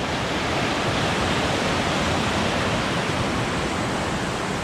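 Rushing water of a waterfall on the Minffordd Path up Cadair Idris, a steady, dense broadband roar heard close by and unbroken throughout.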